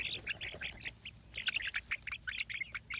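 Chickens squawk and cluck over a watermelon rind, a busy run of sharp, close calls in quick irregular bursts over faint outdoor background noise.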